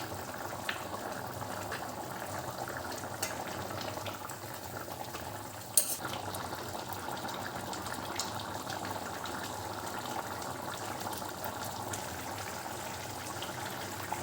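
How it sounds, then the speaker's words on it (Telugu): Chicken curry simmering in water in a pot on a stove, a steady low bubbling and hiss throughout with one brief clink partway, no voices. "ఇందులోకి మనం ఇక వాటర్ని యాడ్ చేసుకొని చికెన్ని ఉడకనిద్దాం"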